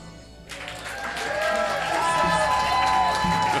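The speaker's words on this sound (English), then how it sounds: "spontaneous, unsolicited applause" A studio audience breaks into loud, sustained applause with some cheering and whoops, swelling quickly and holding steady throughout.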